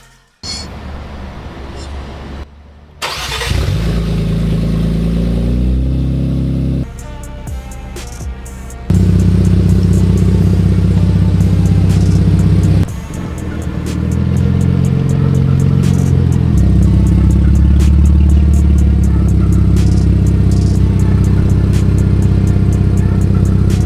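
An Infiniti Q50 with a VR30 twin-turbo engine and upgraded port-injection fuel system cranks and fires, then settles into a loud idle with several rising revs, close to the microphone, with voices talking over it.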